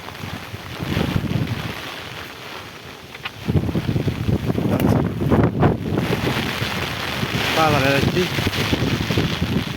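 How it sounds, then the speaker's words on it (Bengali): Stormy wind blows through a rainy Bangladeshi village, with gusts buffeting the microphone in loud, rushing surges that rise and fall, while someone speaks briefly over the roar. "দেখুন ঝড়ও মোটামুটি অনেক ভালো হচ্ছে।"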